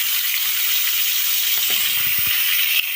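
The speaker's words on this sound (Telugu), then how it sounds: "ఇప్పుడు ఇదే బాండీలో మనం ఎండు చేపలు కూడా వేయించుకుందాం" Dry fish frying in a karahi pan for a dry fish and egg curry, giving a steady, loud hiss and sizzle of hot oil throughout, with a few faint scraping knocks near the end.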